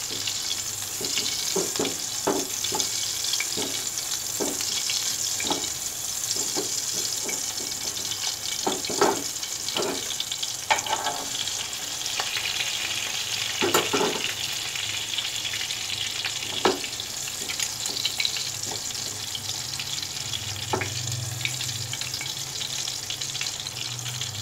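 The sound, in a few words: chapli kabab frying in a pan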